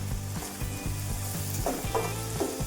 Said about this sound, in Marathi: आता हे छान करून परतून घ्यायचं